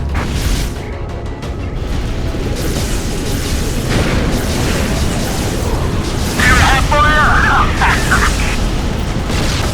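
Heavy combat in the strategy game Anomaly 2 rumbles with a dense, continuous wall of booming explosions and gunfire, loud and close, while voices talk over the din.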